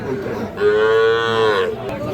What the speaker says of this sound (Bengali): এইদিকে শুধু গরু আর গরু তবে ক্রেতা সংকট